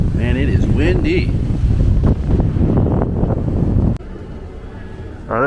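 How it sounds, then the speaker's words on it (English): Strong wind buffets the microphone outdoors on a Disneyland hotel property, a loud rumbling roar under someone talking, dropping sharply near the end before a brief gust returns. "Man, it is windy."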